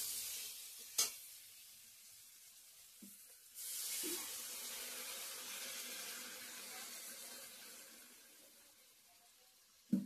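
Water poured into a pan of fried food sets off a sudden loud hiss and sizzle that holds steady and then slowly settles, with a few clinks of utensils and no talking.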